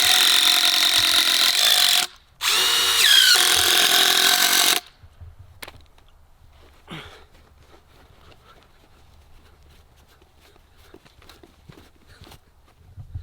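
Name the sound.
drill driving wood screws into clear pergola cover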